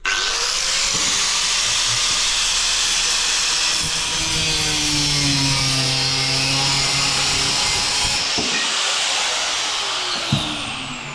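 A diamond blade saw runs continuously while cutting through plastic into aluminium for shower water stops, a steady loud whine with shifting tones, close and alone.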